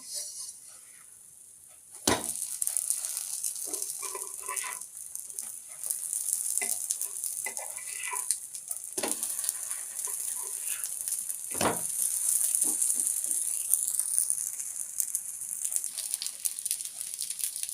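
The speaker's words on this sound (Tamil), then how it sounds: "ஸ்டவ்வை சேமி சிம்மில் வச்சுக்கலாம் இப்போ தோசை அப்படியே திருப்பி போட்டுடலாம்" A dosa sizzles steadily on a hot pan over medium heat, a bright continuous frying hiss broken by a few sharp scraping and tapping sounds as it is handled and flipped.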